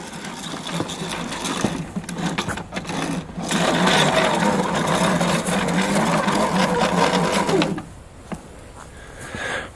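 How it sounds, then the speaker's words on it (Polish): A Vevor automatic garden hose reel winding in a water-filled hose, giving a steady mechanical whirring and rattling drone that builds midway, runs loud for several seconds, then cuts off abruptly near the end. "Sprawdzimy, jak się zwija, kiedy jest w nim woda."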